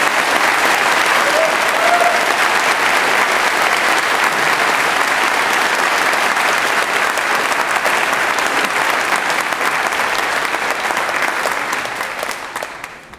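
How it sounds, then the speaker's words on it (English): A large audience at a university graduation ceremony gives sustained, loud applause, a thick unbroken wash of clapping that holds steady for over ten seconds before tapering off at the end. "join me in giving a huge round of applause to Melody for her speech"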